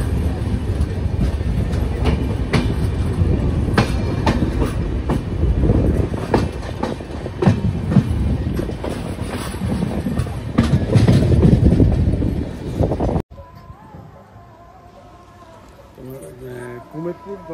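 A passenger train on the Sealdah to New Jalpaiguri line rumbles loudly along the rails with a steady clatter and wheel rattle, then cuts abruptly to a quieter interior near the end where a voice talks softly.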